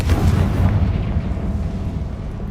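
Confringo blasting spell explosion in Hogwarts Legacy, a loud, deep rumbling boom that swells at once and then rolls on and slowly fades.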